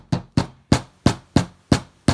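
Small hammer tapping junk journal pieces flat on a hard surface, seven sharp, evenly spaced strikes, close and loud with no talking.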